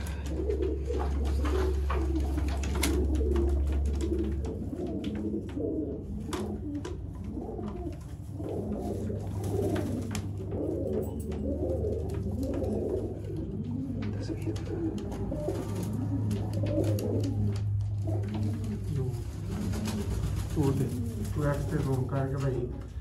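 Sialkoti rooftop pigeons coo in low, repeated murmurs under continuous talk in Urdu-Punjabi.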